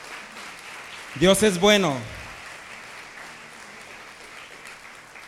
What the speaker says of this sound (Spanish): ¿No merece Dios un aplauso de parte de usted?